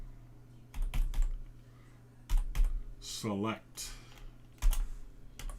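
Rapid bursts of clacking on a computer keyboard as a command is entered, several quick runs of keystrokes with short pauses, close and clear under a man's occasional speech.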